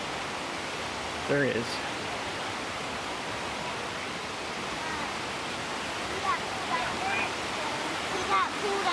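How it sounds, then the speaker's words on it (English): Water rushes steadily along a stream beside a Smoky Mountains nature trail, a broad unbroken whoosh filling the whole clip, with a brief voice and a few faint bird chirps over it. "I hope you can hear that whooshing, rushing sound of water"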